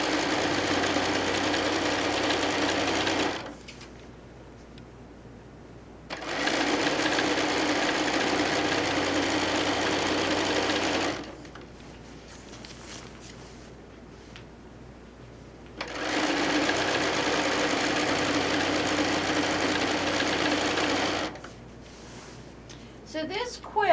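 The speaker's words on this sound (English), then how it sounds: "I want my salvage off of this quilt, so I'm going to let that hang off the edge. And we'll simply stitch down." A sewing machine stitches quilt fabric in three long, steady bursts, with the selvage edge left hanging off the side. Between the runs the motor stops and a person talks.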